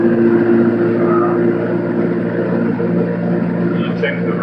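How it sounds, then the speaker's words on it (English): A small aircraft engine at Kent State Airport in 1997 runs up to 1700 RPM for a magneto check, producing a loud, steady propeller drone that holds throughout. "I'll run the engine up to 1700 RPM."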